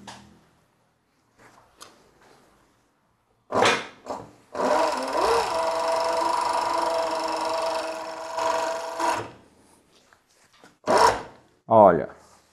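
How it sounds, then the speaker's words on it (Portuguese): An industrial overlock and interlock sewing machine stitches fabric in one long steady run of about five seconds, loud and close, with short bursts before and after and brief speech-like sounds at the end. "E agora eu vou costurar do outro lado aqui."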